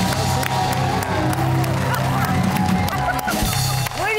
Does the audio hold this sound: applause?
yes